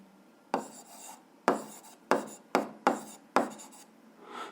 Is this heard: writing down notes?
yes